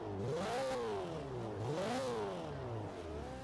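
A Toyota Celica ST205 engine revs in Forza Horizon 4, rising and falling in pitch through repeated throttle swells, steady and close with no talking.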